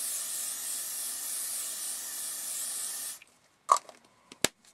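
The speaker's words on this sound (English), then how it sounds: "Get a tin of furniture polish, spray it on your cloth" A close aerosol can of furniture polish sprays onto a cloth, hissing continuously for about three seconds, then stops, followed by a few faint clicks and rustles.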